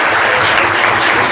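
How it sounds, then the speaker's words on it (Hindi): A classroom audience at a career counselling session claps together in a loud, dense burst of applause, close and continuous with no speech over it. "ताली"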